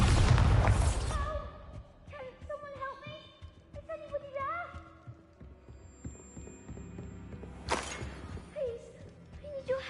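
A Bombarda spell explosion in Hogwarts Legacy bursts loudly at the start, then fades into game ambience with creature cries and speech-like sounds. A second burst lands near the eight-second mark.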